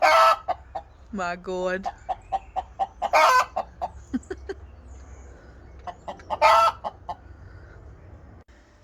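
Adopted ex-battery hens cluck and squawk in a garden run, with loud bursts and steady pecking clucks nearby; a person speaks briefly.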